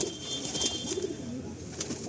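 Loft pigeons coo softly in a low, murmuring burble that runs steadily through the whole stretch, with a faint steady hiss of the room behind them.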